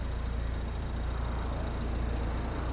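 A 2013 Volvo V60 with a 1.6 D2 eight-valve 115 hp diesel and six-speed manual idles steadily, a close, even low rumble with a faint regular patter and no voices.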